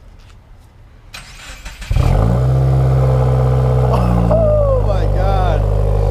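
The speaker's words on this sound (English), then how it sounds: "rev it more. Dang, that thing sounds so good." A Subaru WRX with a Nameless axleback exhaust, run without gaskets, starts and revs loudly up close, its deep idle rising into strong revs; people react and talk over it.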